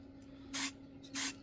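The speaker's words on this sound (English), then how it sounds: "Same deal, just short, sharp passes, little bursts of spray." An aerosol spray can undercoating a wargaming miniature in two short, sharp bursts of hissing spray, close and fairly loud, separated by a brief pause over a faint steady hum.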